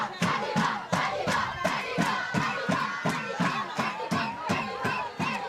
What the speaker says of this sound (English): Can hear the crowd. It's lively, man.